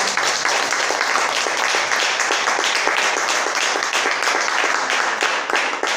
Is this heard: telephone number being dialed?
no